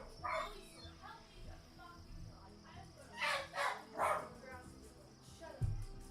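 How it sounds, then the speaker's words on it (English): Dogs bark in several short bursts at moderate distance, mixed in with a person talking. "Oh, wait. Sorry. The dogs."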